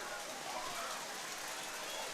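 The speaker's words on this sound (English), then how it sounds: "Rain starting to get heavy here" Rain grows heavier over an outdoor American Legion baseball game, a faint, even wash of hiss that holds steady throughout with no break.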